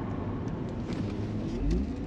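A Mercedes SL sports car accelerates smoothly, its engine a steady, dense low rumble with a slight swell in power near the end, no speech over it.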